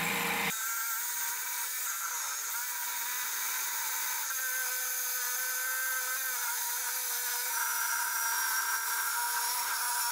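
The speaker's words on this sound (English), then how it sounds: "With the right blade, a jigsaw is a good option for cutting aluminum." A jigsaw cutting aluminum with a blade whose teeth are too fine, a loud continuous buzzing whine with a rattling edge that runs steadily for several seconds.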